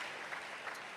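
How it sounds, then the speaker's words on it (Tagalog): Applause from a church congregation at a Sunday worship service in Cebu, a steady wash of many hands clapping that stays even and fairly faint throughout with no voices. "Isang malakas na palakpak para sa ating mahal na Panginoon."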